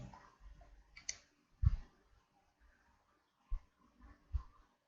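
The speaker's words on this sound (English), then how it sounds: "click on the continue." A computer mouse clicks a few times in a quiet room, sharp isolated taps spaced irregularly and faint.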